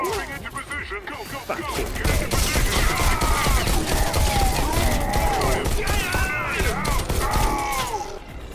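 Loud bursts of gunfire in the VR shooter Bullet Train, rapid shots and impacts packed together over a few seconds, with a voice swearing briefly early on.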